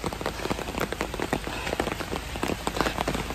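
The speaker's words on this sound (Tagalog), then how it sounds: "It's raining." Steady rain patters on a surface in Baguio, a dense, continuous spatter of close drops with no voices.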